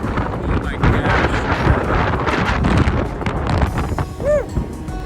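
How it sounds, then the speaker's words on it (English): Strong wind near Moab, Utah buffets the microphone in heavy, rumbling gusts, close and loud, with a few faint higher sounds near the end. "it is so windy"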